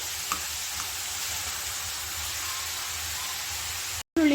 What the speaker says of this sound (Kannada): ಈರುಳ್ಳಿನ ಹುರ್ಕೋಬೇಕಾಗತ್ತೆ ಚೆನ್ನಾಗಿ ಎಣ್ಣೆಯಲ್ಲಿ